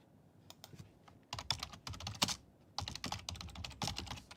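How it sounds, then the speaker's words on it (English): Bursts of rapid clicking on a computer keyboard, close and fairly quiet, with short pauses between runs of keystrokes. "Bloody keyboard."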